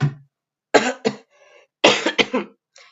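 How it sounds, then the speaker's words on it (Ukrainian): Someone coughs several times in short bursts, two pairs of close, harsh coughs separated by brief pauses. "Я трошки кашляю."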